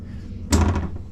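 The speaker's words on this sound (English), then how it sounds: "These latch and pull out into full drawers." A galley drawer on a boat slides in and latches shut with a single solid thunk, close by, followed by a brief rattle as it settles.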